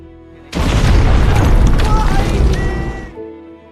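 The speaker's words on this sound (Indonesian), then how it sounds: "Kapten Aileskas melintas bersama Younger, tiba-tiba terjadi ledakan yang mengarah ke Aileskas dan membuatnya tew" A sudden loud explosion blast in a combat setting, Taliban fighters attacking American soldiers in a valley, erupting at once and rumbling heavily for about two and a half seconds before cutting off.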